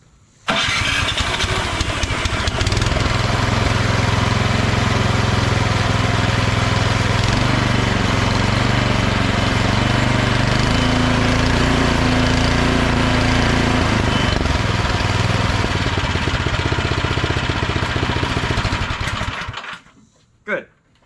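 A Craftsman snowblower engine catches on choke at partial throttle and runs with a loud, steady small-engine roar for nearly twenty seconds before cutting off abruptly.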